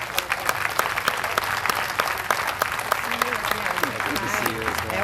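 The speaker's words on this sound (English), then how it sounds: "give her a round of applause" At a chamber of commerce small business awards ceremony, an audience applauds steadily while voices talk and call out over the clapping throughout.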